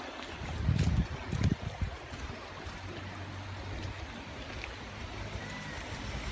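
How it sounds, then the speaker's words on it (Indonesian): Water flows at the Nurundao waterfall as a steady, moderate rushing hiss, with gusty wind buffeting the microphone during the first two seconds before the flow settles to an even wash. "Air mengalir."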